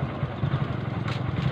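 A parked motorcycle idles close by with a quick, even putter and a faint mechanical clatter, steady throughout with no talking.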